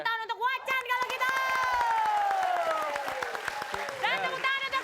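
A small studio crowd claps in quick, scattered bursts while voices shout and whoop loudly over the applause.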